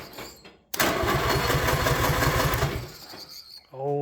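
An old, locked-up tractor engine cranks with its ignition bypassed, a loud, rapid, rhythmic churning that runs for about two seconds and then dies away. A voice follows right after.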